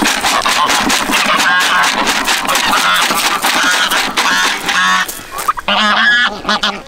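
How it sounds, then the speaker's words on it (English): Several geese honking loudly and close together in a rapid, overlapping series of nasal calls, with a brief pause before a final burst. "This is how geese say thank you."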